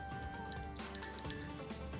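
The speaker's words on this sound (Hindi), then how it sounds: "ये बज गई इसमें बाय की घंटी" A bright electronic buy-order alert bell from algorithmic trading software chimes in quick repeated rings over a soft background hum.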